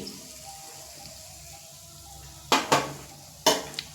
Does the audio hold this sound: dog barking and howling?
no